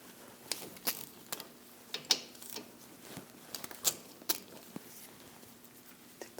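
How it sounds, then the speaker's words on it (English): Ratchet with a 12mm socket backing out rear brake caliper bolts on a 2015-2022 Chevrolet Colorado, giving quiet, irregular clicking and metallic ticks in a garage with no talking. "We're going to take these bolts out, use a 12mm socket."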